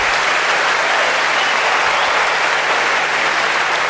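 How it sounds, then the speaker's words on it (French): A studio audience claps for the parents in a steady, dense burst of applause that stays loud and even throughout, with no voices over it. "Des applaudissements forts pour les parents."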